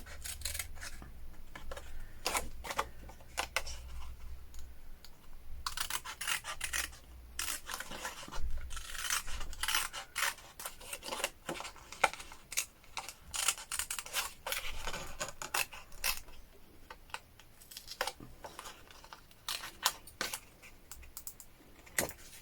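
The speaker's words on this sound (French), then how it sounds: "Donc là, vous voyez, on découpe." Scissors snip through paper to make a DIY Polaroid-style print, giving dense, uneven crisp clicks and cuts at close range that run nonstop with no talking.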